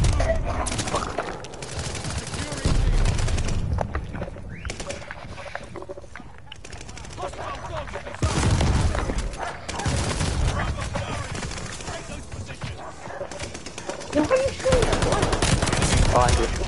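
Gunfire in the video game Call of Duty Vanguard: loud bursts of automatic weapon fire and single shots repeat across the stretch, with brief pauses between volleys and occasional talk underneath.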